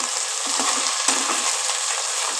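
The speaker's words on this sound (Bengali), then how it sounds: "এবার বাঁধাকপি দিয়ে সমানে পেঁয়াজের সাথে ভাজবো এটাকে" Chopped cabbage frying with onions in oil, a loud dense sizzle with a couple of spatula scrapes as the vegetables are tossed.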